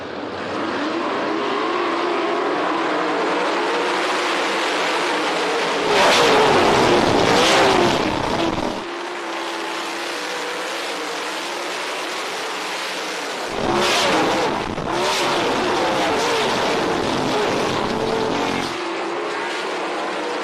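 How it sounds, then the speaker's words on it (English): 360 sprint cars racing at Ohsweken Speedway, engines roaring loud and continuous with two sharp surges as cars pass close by, then fading back to a steady distant drone. "Sights and sounds of the 360 sprint cars"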